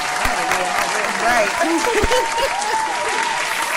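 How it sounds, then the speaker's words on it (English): Studio audience applauding during a Thanksgiving episode of a talk show, steady dense clapping for several seconds with a brief spoken word over it. "give her another hand clap"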